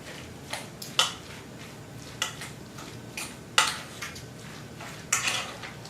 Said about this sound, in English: I'm just going to kind of shred it a little bit more with my forks